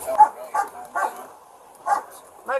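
A police dog barks during an arrest of a disorderly woman in a public place, four or five loud close barks in an uneven rhythm with short gaps between them.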